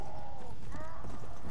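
Horse hooves in Red Dead Redemption Undead Nightmare, a rider trampling zombies, with a rapid clip-clop and a brief whinny over a dense rumble of game sound.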